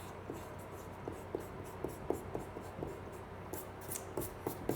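A light green colored pencil sketches rose stems on paper, producing soft, rhythmic scratching strokes that repeat steadily at close range with no voices.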